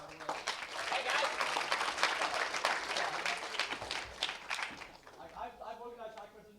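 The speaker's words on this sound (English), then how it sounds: "let's first give a round of applause to Reva, Max, Tony, and entire HackPrinceton" A crowd claps steadily for several seconds at a hackathon's final demos, a dense wash of applause that fades as a voice begins speaking near the end.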